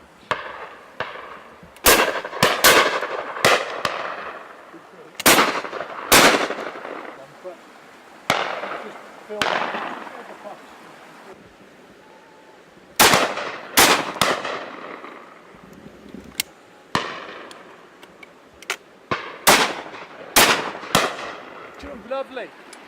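Shotgun shots fired at high partridge with Eley Hawk Zenith cartridges on a driven shoot, loud sharp reports in quick pairs and singles with a long decaying echo after each, over a dozen across the stretch, with people talking between them.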